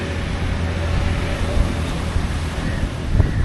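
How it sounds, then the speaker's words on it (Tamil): Steady, loud wind buffeting along a rainy seashore in Habaraduwa, Sri Lanka, a broad continuous roar with low rumbling gusts and possible surf beneath, no talking. "கடலோரமாக காற்று பாருங்க, மழை பெய்ஞ்சிக்கிட்டு இருக்குது."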